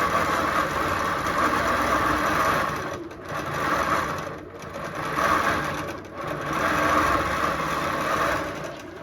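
A quilting machine on a rack stitches a quilt with a steady, fairly loud mechanical whirr that swells and dips in regular waves, running continuously without pause.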